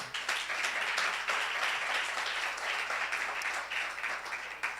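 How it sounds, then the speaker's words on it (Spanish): A church congregation applauds during a pastor's service, a moderately distant, steady round of clapping with slight swells, heard alone without speech. "Quiero que me le den un fuerte aplauso."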